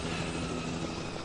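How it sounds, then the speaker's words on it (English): A helicopter in the video game The Last of Us Remastered gives off a steady, faint rotor and engine drone that holds even throughout with no talk. "Helicopter."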